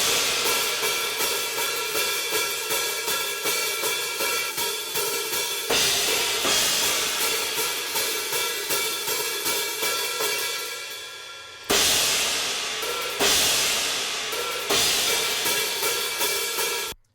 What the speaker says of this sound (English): The cymbals in the same chorus section here sound like this.